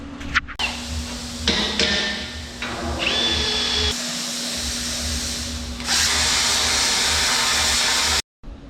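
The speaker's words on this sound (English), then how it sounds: "holes that we've drilled by hand with the battery drills" Battery-powered hand drill bores holes into the steel frame of a 5500 RAM 6x6 truck, a loud continuous high whirring grind that shifts pitch as the bit bites and ends abruptly.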